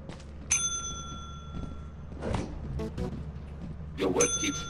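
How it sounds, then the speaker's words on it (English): A bell rung in the video game Lethal Company sounds twice, each a bright ringing tone with sustained overtones, over low game ambience and brief talk between the rings. "I'll ring the bell."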